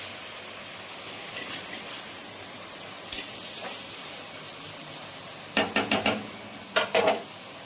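Chicken curry fries in a pan with coriander leaves, a steady close sizzle broken by short bursts of scraping and stirring spread across the stretch, with no talk.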